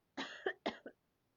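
Two quick, close coughs in a row, each a harsh burst followed by a shorter catch, then quiet.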